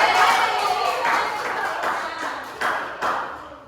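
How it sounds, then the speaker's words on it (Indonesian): A live audience applauds, a dense broadband wash of claps that keeps going with a few sharper bursts standing out near the end, along with some crowd noise. "Sudah, kita berikan tepuk tangan yang baik"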